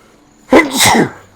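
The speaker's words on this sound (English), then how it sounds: "Oh, I have to sneeze" A single close, loud human sneeze with a short sharp intake and a bursting release, preceded and followed by near silence.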